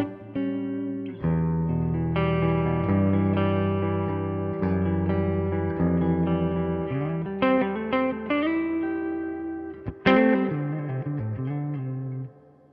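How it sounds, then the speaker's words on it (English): A distorted electric guitar plays sustained chords and picked notes through a guitar amp's tube-buffered three-spring reverb turned fully up, leaving long washy tails and a splashy crash near the end, with no talking. "And then the tube buffered three spring reverb."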